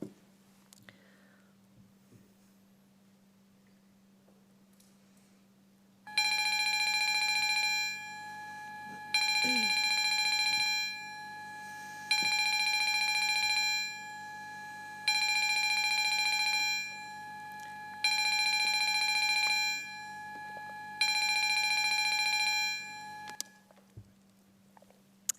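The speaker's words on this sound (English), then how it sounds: "Ring the bells." Parliamentary division bells ring at a youth parliament sitting in Cairns, sounding in six regular bursts of about two seconds each with short gaps, loud and clear over a steady low hum.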